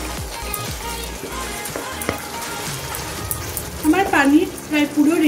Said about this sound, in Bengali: পানি দিয়ে মশলাটা পুরো ভাজা ভাজা করছি।